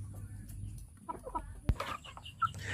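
KUB chickens clucking in scattered, short calls at a moderate distance over a low background hum, with one sharp knock partway through.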